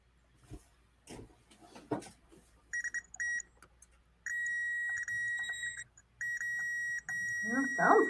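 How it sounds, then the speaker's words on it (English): A multimeter gives continuity beeps while wires are probed on a Nixie tube voltmeter under repair: after some handling clicks, a series of clear electronic beeps of uneven lengths sounds, some short and some sustained, with speech nearby. "Are you able to beep them out and wiggle wire at the same time?"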